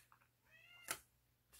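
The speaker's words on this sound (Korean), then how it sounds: "잠시만요. 저희 고양이가 왔어요." A cat meows indoors, a short rising call with clear harmonic tones followed by a brief sharp noise burst, heard alone over a faint low hum at close range.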